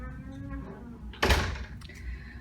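A hotel room door in a Dubai hotel clicks and swings open with a key card, a sharp thunk about midway through, while a person talks quietly around it.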